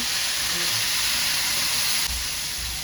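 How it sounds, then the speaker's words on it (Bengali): Chicken with spices and a little water sautés in a pan, giving a steady loud sizzle and hiss throughout with soft stirring bumps underneath. "মশলাটা ভালো করে কষিয়ে নেব।"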